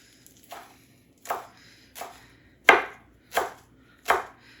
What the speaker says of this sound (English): we're just going to chop up this fresh basil as fine as I can get it